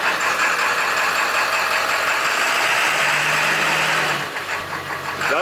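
A Nissan S13 with a swapped 1JZ engine runs steadily and loudly with a rough, throaty rumble, close by, its check engine light on, shifting slightly in tone near the end.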